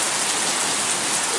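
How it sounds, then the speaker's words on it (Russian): Heavy rain pours down during a thunderstorm as a dense, steady hiss with no pauses. It sounds close and loud throughout, and no distinct thunder rumble stands out. "Гром такой громыхает, дождь такой льет, реки просто текут."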